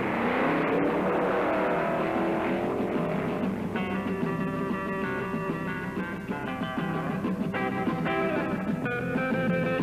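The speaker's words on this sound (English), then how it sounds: "This is drag racing." Drag racing cars, 1964 Fords, accelerate from a standing start down a 1,320-foot strip with a loud, continuous engine roar carrying a strong whining tone.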